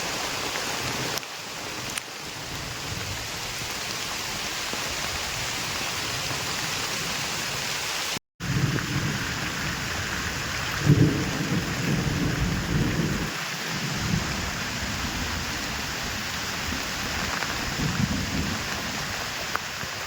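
Heavy rain pours down at a village well during a storm: a dense, steady roar of drops, loud and close, with low rumbling underneath and one brief dropout, and no voices.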